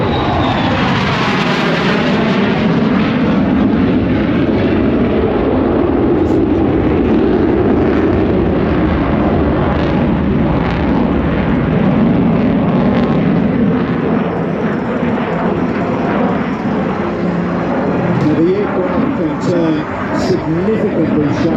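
An F-35 fighter jet roars through a handling display at an air show, loud sustained engine thunder with rising and falling pitch as it maneuvers, while a commentator talks over it.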